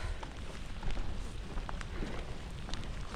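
Rain falls steadily during a sea fishing trip, a dense, even hiss with scattered drops pattering on nearby surfaces, fairly faint and continuous with no voices.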